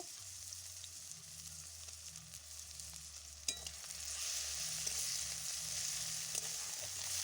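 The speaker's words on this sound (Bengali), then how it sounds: "মশলাটা একটুখানি ভেজে নেব ভালো করে।" Garlic and ginger paste frying in a pan for a Bengali-style jackfruit and prawn curry, a steady close sizzle with faint stirring scrapes and a brief clatter midway, growing a little louder in the second half.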